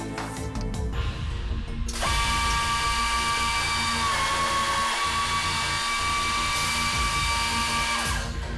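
A Gannomat Pro-Line 50 double line drilling machine runs a cycle: mechanical clatter first, then a loud sustained motor whine with drilling tones and faint periodic dips, close and steady throughout.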